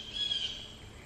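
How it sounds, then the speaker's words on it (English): A single bird gives one thin, high call, moderately near and fairly faint, over quiet background hiss. "this bird is rude."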